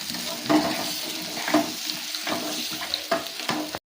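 Fish head curry is stirred in a pan just after water goes in, with wet sloshing scrapes coming in a rough rhythm of about one stroke per second over a steady sizzle, close and fairly loud.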